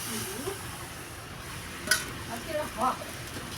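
Fried stalks stirred in a pan with mustard paste and a little water, giving a soft steady sizzle with occasional clinks and scrapes of the utensil, a voice murmuring faintly in the background.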